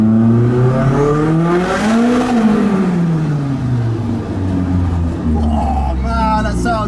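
Toyota AE86 fitted with a turbocharged SR20 engine revs hard, the pitch rising and falling in a loud sweep, then easing to a lower drone. Someone talks over it.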